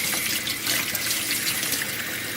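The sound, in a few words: water running from a pull-out kitchen faucet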